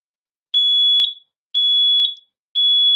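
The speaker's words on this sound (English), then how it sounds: "we're going to hear our 3 beeps for smoke alarm" A smoke alarm sounds its pattern of three loud, shrill, high-pitched beeps, each about half a second long and evenly spaced, with silence between them.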